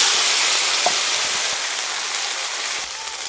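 Bay leaves and dried red chillies sizzle in hot oil with sugar for tempering, a steady hissing fry with faint crackles, close and continuous with no talk.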